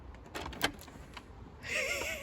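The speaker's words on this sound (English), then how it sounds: "we are going to see what happens this time when I knock on the door" Knocks on a house door sound as a few quiet taps near the start, followed by the scrape of the door opening and a faint squeak, with no barking heard.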